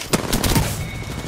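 Rapid video game gunfire, a few close, sharp bursts in quick succession near the start, then fading into quieter background noise.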